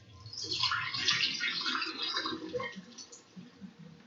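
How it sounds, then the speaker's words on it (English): Water drains off soaked apples, a steady close splashing trickle and gurgle lasting a few seconds. "the apples, which I'm going to drain out this water."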